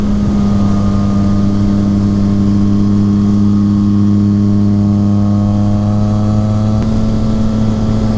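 A 2019 Yamaha MT-09 motorcycle fitted with an M4 carbon slip-on exhaust runs loud and close, a steady droning engine tone that holds nearly constant for about eight seconds.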